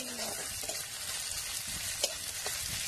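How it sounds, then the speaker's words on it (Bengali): Onions with a pinch of salt frying in a pan until reddish brown, a dense continuous sizzle with occasional stirring clicks, close and steady throughout with no speech. "পেঁয়াজগুলো ভাজা হয়ে গেছে, দেখুন লাল লাল হয়ে গেছে।"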